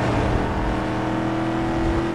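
A Ford Mustang engine in Need for Speed Most Wanted Redux drones with a steady, loud tone at a high, constant pitch, with no talk over it.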